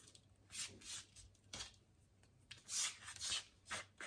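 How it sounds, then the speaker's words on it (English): A knife dices rosemary on a board in short rasping, scraping bursts, some quick strokes and some longer rubs, close and quiet with pauses between. "I'm just gonna start dicing the rosemary up so it will be ready when we get to that stage"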